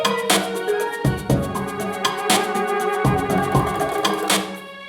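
Full music track from the game Unrailed with all instruments together: a dense, steady arrangement of layered melodic tones over regular beat accents, loud and continuous with no voices.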